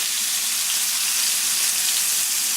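A vegan steak sears in a hot pan, giving a loud, steady, close hiss of frying that runs without pause and with no talk.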